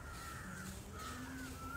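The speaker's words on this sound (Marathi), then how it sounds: "हा पक्ष्यांचा किलबिलाट" Birds call in a yard with a flowering parijat tree, harsh crow-like caws in two drawn-out calls, faint against steady background hiss.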